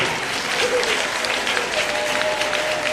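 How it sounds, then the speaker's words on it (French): A church congregation applauds a choir, a sustained crowd of clapping hands at moderate distance with a faint voice or tone carrying through. "Applaudissez une fois de plus, frères et sœurs."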